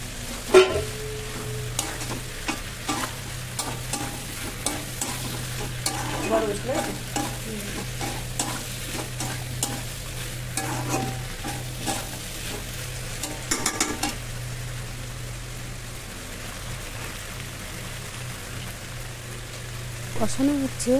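Soybean chunks and potato being sautéed in a pan, giving a low steady sizzle with frequent spoon scrapes and clatter, while a person talks at intervals.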